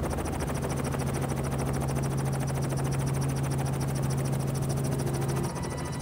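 A four-seat helicopter with its doors removed flies over the Bungle Bungle Range at Purnululu, its rotor and engine making a loud, steady, close droning whir that fills the whole stretch and eases slightly at the very end.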